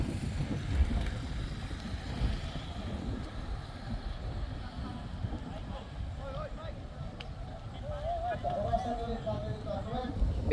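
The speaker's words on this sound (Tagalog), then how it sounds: "Sobrang lakas ng hangin." Strong wind roars steadily across the microphone during an open road criterium bike race in Ibaan, Batangas, a constant low rumbling gust throughout with faint passing sounds and no clear talk.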